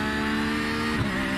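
An LMP2 prototype race car in iRacing gives a loud, steady engine whine with strong harmonic tones, rising briefly as it passes close by with no voices.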